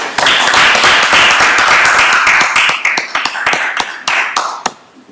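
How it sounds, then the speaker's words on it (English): Committee members at a town finance meeting give a dense round of applause that thins into scattered individual claps and stops after about five seconds. "One more round of applause."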